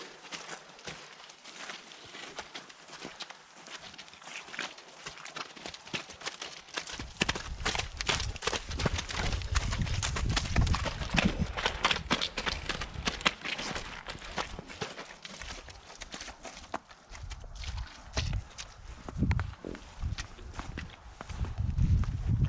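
Hooves of large Ukrainian draft horses clop on the ground, quiet at first and then a denser run of irregular thuds as the animals move, with occasional voices nearby.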